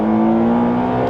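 A McLaren Speedtail hypercar engine revs hard under acceleration, a loud, steady high-pitched drone that holds close and continuous with no voices.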